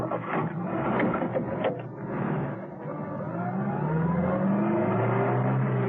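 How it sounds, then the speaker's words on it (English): A car engine starts and revs, then accelerates away down a driveway in a radio drama sound effect, a loud continuous motor roar rising in pitch as it pulls off. "ducked into it, started it up, and drove as quickly as he could down the driveway"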